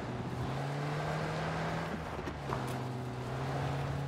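A car in a video game drives by with a steady low engine hum that holds throughout, swelling slightly toward the middle and end against a windy background.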